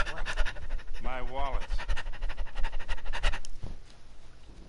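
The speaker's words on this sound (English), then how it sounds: "That sounded more like a panting dog than a runner." A person breathing in quick, rhythmic pants while running, close and loud, with a rubbing, scratchy background.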